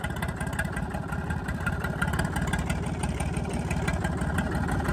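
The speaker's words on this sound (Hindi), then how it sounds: "हनी यहाँ मोटर लेकर भगा फिर रहा है" A motorbike engine runs steadily nearby with a rhythmic, pulsing mid-pitched chug, fairly quiet and continuous for five seconds with no talking.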